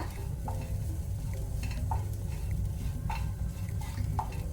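Small dried fish frying in a pan, a steady close sizzle running throughout with several light spatula scrapes and stirs at intervals.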